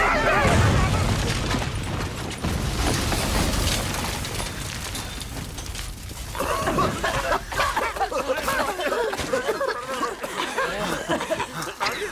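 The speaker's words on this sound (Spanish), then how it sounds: "Ha debido de ser una explosión carísima." A big explosion in a Muppets film scene, a loud booming blast at the start that rolls on as a rumbling roar, with voices and chuckling coming in over the fading noise.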